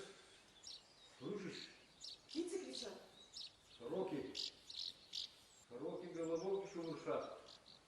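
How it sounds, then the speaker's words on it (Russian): Magpies chattering and calling outdoors during a stage performance of a WWII drama, several harsh chirps in bursts with faint insect-like trilling, mixed with low voices talking. "Птицы кричат. Сороки."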